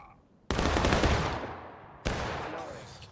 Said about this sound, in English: Nice little shot there by AGL.